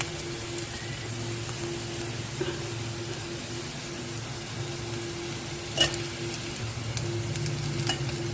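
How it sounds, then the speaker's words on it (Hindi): Steady crackling sizzle of hot oil in a kadhai as dal is tempered, constant and fairly loud, with a faint clink partway through and no talking. "तो इसी में दाल का तड़का लगाएंगे।"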